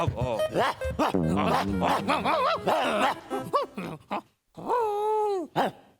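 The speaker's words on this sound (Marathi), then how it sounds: "हा कुत्रा तुम्हाला खूप आवडेल" A dog barks and yelps close by in a series of sharp, whiny calls, with a short pause before a final drawn-out bark.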